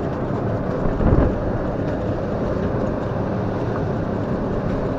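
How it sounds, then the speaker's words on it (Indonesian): Steady rain falls outdoors in a continuous, even wash of noise with a brief heavier rumble early on, fairly loud and unbroken, and no one speaking. "Lagi hujan."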